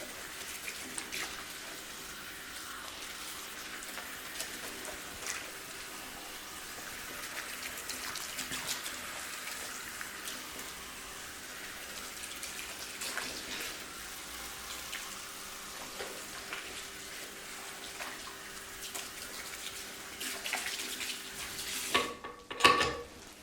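Water running steadily from a tap during a hair wash at a scalp clinic, a soft continuous spray with faint clinks near the end and no talk.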